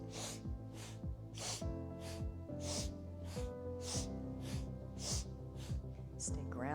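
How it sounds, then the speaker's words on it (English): Strong rhythmic breathing through the nose during a seated breathwork twist, with repeated sharp exhales in a steady pulse under a soft background of music. "Strong inhale, exhale through the nose."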